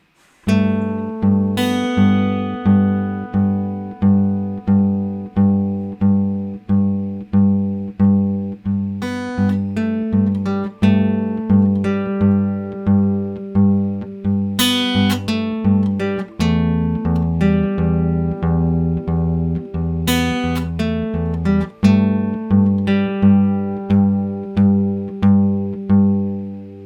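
Slow, evenly paced acoustic guitar strums ring out one after another, each chord decaying before the next, with a brief lower-pitched passage midway; no voices.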